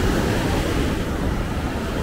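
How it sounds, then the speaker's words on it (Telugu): A mountain river near Kedarnath rushes loudly past, a constant, close, roaring wash of water with wind noise and no pauses or voices. "వాటర్ ఫ్లో మస్తు ఉంది"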